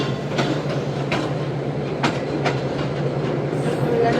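A Shalimar Express train on its first run passes by, its steady rolling rumble broken by sharp, evenly spaced wheel clicks over rail joints, close and loud throughout.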